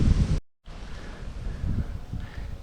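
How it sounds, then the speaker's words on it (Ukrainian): Steady wind blows in a broad rumbling rush close to the microphone, with a brief moment of silence near the start, over a field of oat stubble. "Вітер задуває трішки"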